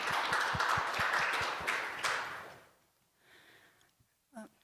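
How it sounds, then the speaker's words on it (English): A warm round of applause from the audience at a climate technology workshop, steady and fairly near for a couple of seconds before fading out into quiet. "please give her an extra warm round of applause."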